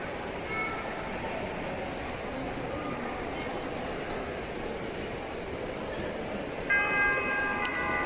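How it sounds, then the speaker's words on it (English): Bells ring out in Edinburgh, faint tolls carried over a broad wash of street and city noise, with a brighter cluster of ringing near the end. "Oh, the bells are ringing."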